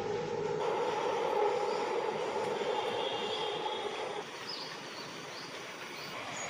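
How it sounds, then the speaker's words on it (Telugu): A train passes nearby with a steady broad rumble and rushing roar that eases slightly after a few seconds, with no talk. "మళ్ళీ ట్రైన్ వస్తుంది"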